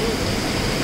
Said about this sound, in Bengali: দেখেন ঝর্ণার মনে হয় আওয়াজ শুনতে পাচ্ছেন।